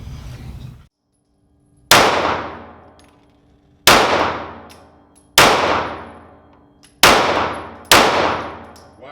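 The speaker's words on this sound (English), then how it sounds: "So we're going to run some shots, see how it goes." Five sharp, loud Rost Martin RM1C pistol shots spaced about one to two seconds apart, each a hard crack with a long ringing decay, outdoors with no talking.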